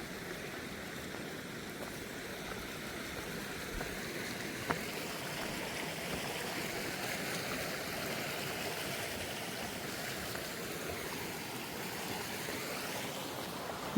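River water flows among mangrove forests, a faint, steady rushing wash that continues evenly with no voices.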